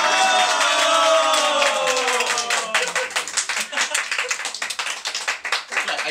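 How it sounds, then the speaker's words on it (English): Wedding guests clap together in a crowd, starting as a dense even patter under a held musical tone, then thinning into looser, scattered claps as the tone fades. "You're supposed to clap."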